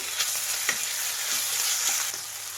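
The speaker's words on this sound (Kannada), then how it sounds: "ಇದು ಅಷ್ಟೇ ಹಸಿ ವಾಸನೆ ಹೋಗೋವರೆಗೂ ಫ್ರೈ ಮಾಡಿ" Ginger garlic paste frying in a pan, a steady bright sizzle with occasional spoon taps and stirring scrapes close by.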